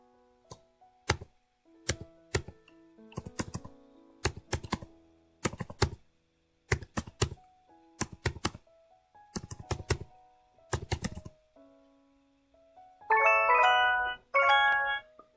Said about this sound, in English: This is the typing game and it's really fun.